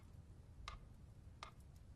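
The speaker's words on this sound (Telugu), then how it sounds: "ఈ టికింగ్ శబ్దం వినపడుతుందిగా," Two evenly spaced sharp ticks about three-quarters of a second apart, crisp and fairly close over a low background hum, suggest a clock ticking in a quiet room during a hypnosis scene.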